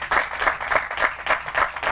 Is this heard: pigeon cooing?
no